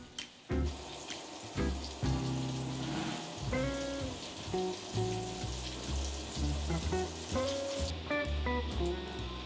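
Mushrooms sizzle and crackle steadily in a hot pan as they are flipped and seasoned, with scraping and clatter from the turning breaking up the continuous frying hiss.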